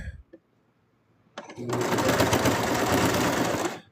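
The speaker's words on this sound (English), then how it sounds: "Now I'm sewing through about 4 pieces of material in some of these spots" A sewing machine stitches through about four layers of plush fabric, starting after a few brief clicks and then running steadily and loudly for roughly two seconds before stopping.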